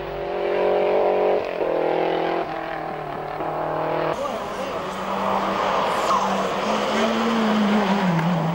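A works Renault rally car labouring through a difficult section of a stage, engine revving and straining in bursts with tire scrabble, moderately close, joined by a commentary voice.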